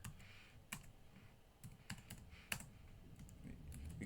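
Keys clatter on a computer keyboard as code is typed, a few sharp clicks scattered over about four seconds against a quiet, low room hum.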